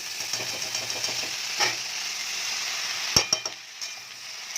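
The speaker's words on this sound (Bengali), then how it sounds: "এইদিকে আলু বেগুন দুটোই ভাজা হয়ে গেছে। তো এই পর্যায়ে আমি শাকটা অ্যাড করে দেবো" Bottle gourd greens tipped into a pan of frying potato and eggplant, a steady soft hiss of oil with light scraping, then a few sharp clatters of a spoon against the pan near the end.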